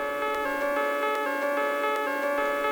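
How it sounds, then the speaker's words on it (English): A looping music sample pitched up one and two octaves, bright sustained bell-like tones ringing steadily with faint ticking accents, for a dark track. "I've also pitch shifted this main loop up 1 octave and also 2 octaves"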